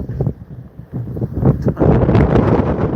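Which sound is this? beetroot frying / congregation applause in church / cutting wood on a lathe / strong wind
strong wind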